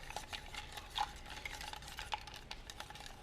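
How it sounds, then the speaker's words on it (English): A spoon stirring a mezcal cocktail over ice cubes in a mixing glass, a soft continuous swirl with light clinks of ice against glass, close and quiet. "Got our ice cubes in here. All right, we're gonna mix this."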